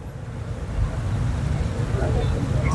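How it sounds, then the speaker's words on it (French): Wind blows outdoors and buffets the microphone in a steady, low, roaring rumble that swells slightly and persists throughout. "il y a du vent."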